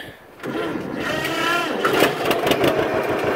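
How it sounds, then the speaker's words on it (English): A vintage John Deere tractor engine cranks and catches, then runs steadily with a buzzing, chugging rumble that grows louder, with wind noise in the background. "I'm going to go ahead and see if it'll start up"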